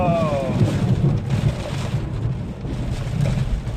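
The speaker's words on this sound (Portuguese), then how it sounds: "Uma tempestade que ocorre instantaneamente é acompanhada de chuvas e relâmpagos" Steady heavy rain pours down with low, rolling thunder rumbling underneath throughout.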